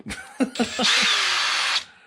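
A power drill, used while installing a Hot Racing differential case, gives a few short blips and then a sustained whine of about a second, recorded up close.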